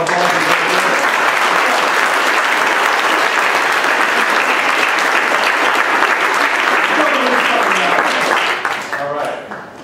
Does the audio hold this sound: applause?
yes